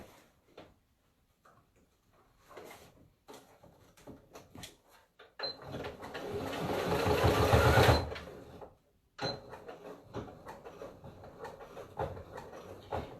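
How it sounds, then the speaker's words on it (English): Sewing machine stitching through thick fabric for a headband with a bow: scattered faint clicks and handling, then a sustained loud motor run of a few seconds, a pause, and a second steadier stretch of stitching. "And I can stitch now."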